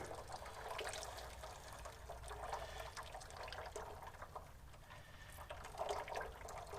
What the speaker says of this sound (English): then what I do is I just crack the filter, okay, and we'll let that drain after we get this draining right here